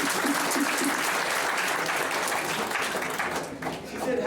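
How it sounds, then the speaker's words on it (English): Audience applause after a question from a woman at a school talk, steady clapping from a crowd filling the whole span, fairly loud and continuous with some voices mixed in. "A round of applause for the sister."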